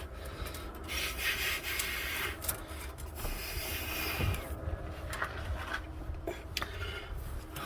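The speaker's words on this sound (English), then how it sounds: "slide the hose clamp over, and then I will tighten this all up" A hose clamp is tightened by hand with no power tools on a Lippert hydraulic pump motor solenoid, giving steady close scraping and rubbing with small metallic clicks, no voices.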